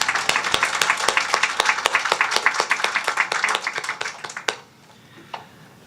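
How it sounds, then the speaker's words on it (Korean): A church congregation clapping during an afternoon worship service, sharp loud claps in a fairly regular rhythm that grow dense and fast before stopping abruptly, followed by near silence with a faint murmur. "우리 하나님께 모든 영광의 박수 올려드립니다"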